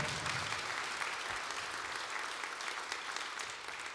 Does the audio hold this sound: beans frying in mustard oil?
no